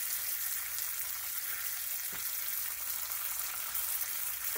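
Seasoned steak pieces for ribeye hoagies frying in a pan, giving a continuous hiss with a faint crackle partway through. No one talks.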